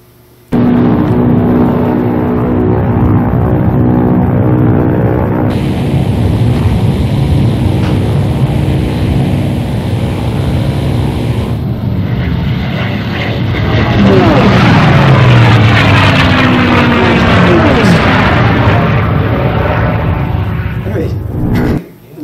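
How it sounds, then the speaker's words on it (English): Rolls-Royce Merlin engines of a de Havilland Mosquito aircraft run in a loud, steady, throaty drone that swells and shifts in pitch partway through, then holds strong before cutting off abruptly. "It's basically about the engines that power the Mosquito"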